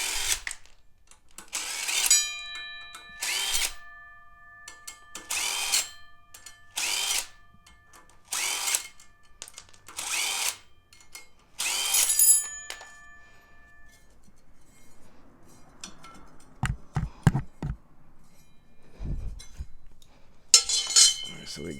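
A power tool, likely an impact gun, rattles off flywheel bolts on a Toyota MR2 K24 engine build in about nine loud, evenly spaced bursts, followed by quieter metallic clinks and a few short low thuds.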